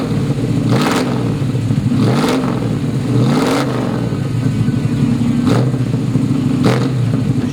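A 1967 Ford Mustang Shelby GT350 engine runs loud and close, with a steady rumbling idle broken by several sharp revs spaced a second or two apart.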